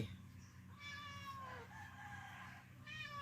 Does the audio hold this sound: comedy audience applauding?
no